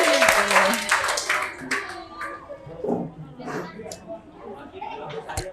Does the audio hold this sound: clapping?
yes